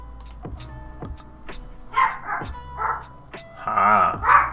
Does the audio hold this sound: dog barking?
yes